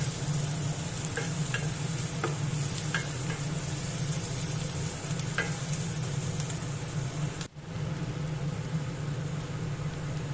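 Onion and garlic fry together in a pan for an egg curry, a steady close sizzle and hiss running throughout, with occasional stirring scrapes and a brief dip near the end.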